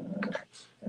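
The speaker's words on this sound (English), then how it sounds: "You can hear my dogs. They're like wrestling back there." Pet dogs wrestling together in a back room, with short growls and whimpering yips at moderate distance, quick bursts separated by a brief lull.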